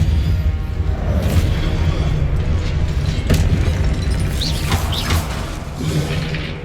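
Confringo fire spell exploding in Hogwarts Legacy gameplay: a dense, rumbling blast with a sharp crack partway through, set against a continuous low roar of game sound.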